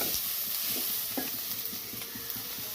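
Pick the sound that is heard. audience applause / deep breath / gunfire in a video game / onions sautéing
onions sautéing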